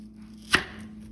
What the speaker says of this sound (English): We will cut the onion in half.